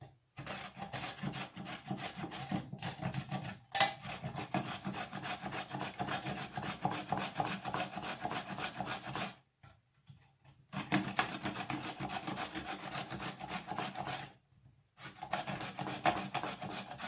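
Carrots are grated on a small manual hand grater in long rhythmic rasping strokes, loud and close, with two brief pauses partway through and no talk.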